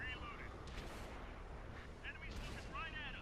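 Tank cannon shells bouncing off armor in World of Tanks on PS4, with an Object 140 tank in play: a couple of sharp metallic impact bursts over constant battle rumble, with speech-like radio chatter mixed in.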